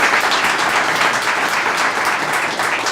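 A gathered audience at an exhibit unveiling claps for kitchen volunteers, a steady, dense round of applause sustained loudly throughout.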